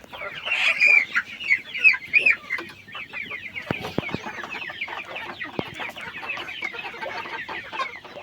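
Three-month-old Sonali chickens cluck and chatter in a flock, a busy overlapping mix of clucks and calls close by, with occasional louder squawks near the start.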